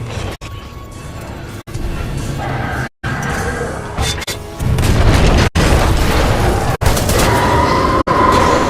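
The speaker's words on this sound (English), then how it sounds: "a series of explosions just weakened the manipulator arm" Loud, dense run of explosions and booming blasts in the video game Titanfall 2, rolling continuously with sharp crashes and brief dropouts between bursts, building heavier toward the end.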